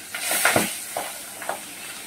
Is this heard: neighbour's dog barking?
no